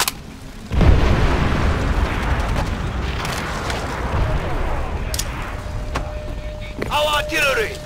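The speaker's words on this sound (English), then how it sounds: "Our artillery will break their will." Artillery explosions boom in Call of Duty: World at War PC multiplayer. A heavy blast hits near the start, then a rumbling barrage follows. Sharper bursts and a voice sound toward the end.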